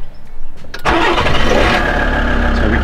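A Volkswagen engine cranks and fires up after a new key is programmed, a short starter whir followed by the engine catching and settling into a steady, fairly loud idle.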